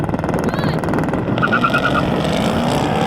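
A Hennessey Mammoth and a Jeep Trackhawk revving and launching side by side in a drag race, a loud steady engine roar with a brief chirping squeal in the middle, no talk.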